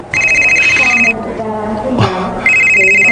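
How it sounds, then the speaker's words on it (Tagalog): A cellphone ringing close and loud with an electronic trilling ringtone, two bursts separated by a pause, while a person talks in between. "Ay, ako cellphone."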